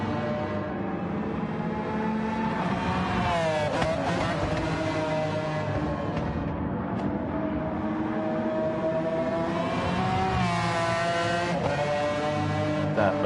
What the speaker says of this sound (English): That McLaren F1 that sounds like a jar of angry hornets